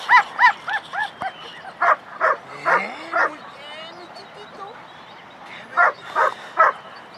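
Dog barking during an obedience training session: three quick barks open, then a series of evenly spaced sharp barks with a pause, followed by three more near, loud barks at the end.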